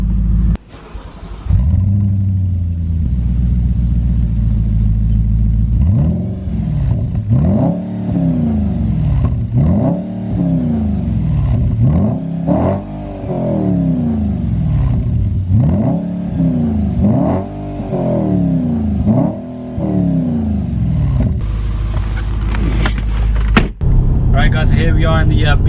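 Manual Audi RS4 B7 V8 starting up after a starter button press, then idling and revving repeatedly in rising and falling sweeps, loud and close, with a brief whir near the end.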